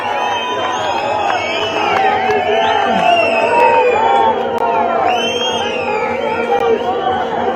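A large crowd at an outdoor political gathering on Shimla's Ridge ground cheers and whoops in a steady, dense roar of voices that holds throughout.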